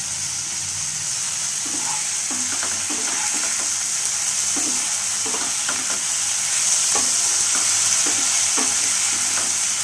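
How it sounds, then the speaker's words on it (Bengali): Vegetables fry in a pan, a steady loud sizzle beneath repeated soft scraping and clinking stirring strokes, near and continuous, with no talking. "সবজি, মাছের ঝোলটা হচ্ছে, সবজিটা ভাজছি।"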